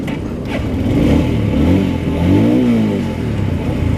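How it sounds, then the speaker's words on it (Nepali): A Bajaj Dominator 250 motorcycle engine revs steadily up and down, close and loud, with a rising and falling drone and no talking. "बाइकको इन्जिनको रेभ गर्ने तरिका नै कडा रहेछ"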